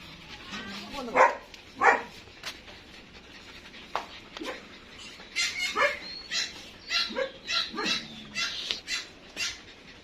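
A young German Shepherd puppy whines and whimpers in short, broken bursts close by, with soft panting between, while a person speaks quietly nearby.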